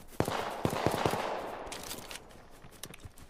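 Gunfire in a video game firefight, a series of sharp shots clustered early with a couple more later, loud against a busy background.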